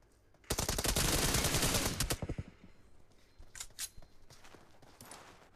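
Gunfire in a shooter video game, a rapid burst of sharp shots lasting about a second and a half, then a few scattered single shots, fairly close and without talk.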